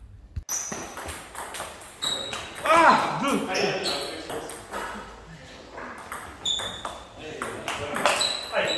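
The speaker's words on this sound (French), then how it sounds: "le bruit quand je claque la balle parle de lui-même" Table tennis ball struck hard in a smash during a match, sharp pinging hits and bounces scattered across the rally, with voices talking over parts of it.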